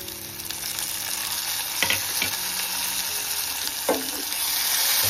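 Tomatoes land in a pan of sautéing onions for a vegetable dish, bringing a loud, steady close-up sizzle with a couple of brief scraping stir strokes.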